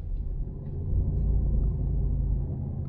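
Steady low rumble of a truck cruising down the road on newly bought tires, engine and road noise droning continuously from inside the cab with no talking.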